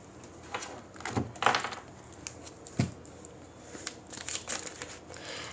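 Tarot cards drawn and shuffled during a reading, soft papery slides, flicks and rustles in a quiet room, close and faint with irregular bursts of handling.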